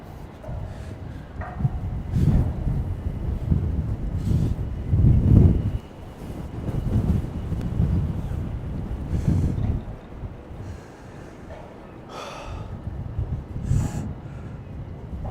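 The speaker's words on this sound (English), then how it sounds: "So the wind is insane." Strong, gusty wind in Manhattan buffets the microphone in irregular rumbling bursts that swell and fade, loud at times and calmer in between.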